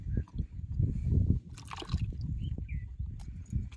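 Taro leaves are washed by hand in water, with short bursts of splashing, dribbling and sloshing up close at a low level.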